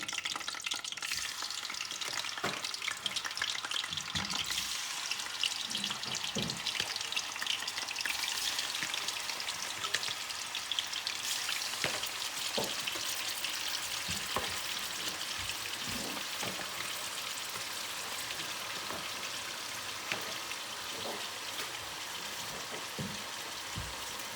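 King prawns frying lightly in hot oil, a dense continuous crackling sizzle with scattered small pops, steady and close throughout.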